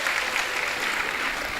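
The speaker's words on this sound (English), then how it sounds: "May we clap hands for her as she comes back to the podium." A hall audience claps for the MC at a student recruitment road show, with dense, steady applause filling the room at close range, loud and continuous throughout.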